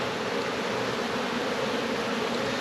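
Dense, steady buzzing of many honeybees swarming close around an open hive, a continuous droning hum with no voices.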